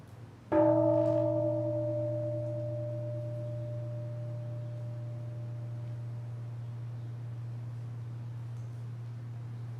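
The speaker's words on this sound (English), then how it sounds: "The sound of the temple bell booms for all to cease from conflict" A single deep Zen Buddhist temple bell struck once, its resonant tone ringing out and slowly fading over a low steady hum.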